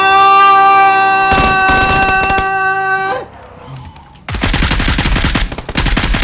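Gunfire in the video game PUBG (Battlegrounds) from a suppressed weapon, with loud rapid bursts of shots after a sustained tonal in-game sound, a short lull, then another dense burst, with little talk.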